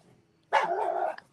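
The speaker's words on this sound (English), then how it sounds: "The dog is going haywire." A dog barks in one loud, close burst of rapid barks lasting under a second, set against a quiet room during a podcast recording.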